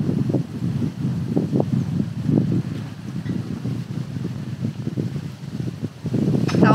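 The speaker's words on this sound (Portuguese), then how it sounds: "Tá um vento agora e tá nublando." Gusty coastal wind in Garopaba, Santa Catarina buffets the microphone outdoors, a close, rumbling low roar that swells and drops in irregular bursts throughout.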